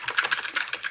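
Fingers tap out a Linux command on a computer keyboard, a quick run of about a dozen crisp, close keystrokes in an uneven rhythm with no voices.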